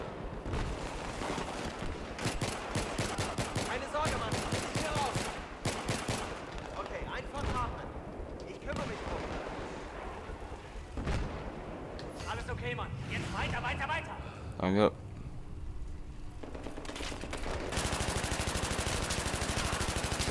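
Gunfire in Battlefield 3 co-op, the Operation Exodus mission: long rapid automatic bursts and single shots, loud and nearly continuous, with people talking over the shooting.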